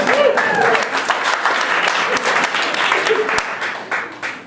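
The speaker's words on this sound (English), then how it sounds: "Round of applause." An audience at a live comedy show breaks into close, lively applause with scattered whoops, continuing steadily and fading slightly toward the end, with voices mixed in at the start.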